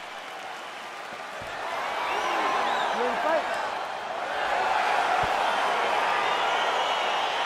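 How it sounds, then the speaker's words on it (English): An arena crowd in EA Sports UFC swells into cheering and applause as a fight gets underway, a broad roar that builds midway and stays loud, with an announcer's voice briefly heard. "crowd getting excited as this fight gets underway"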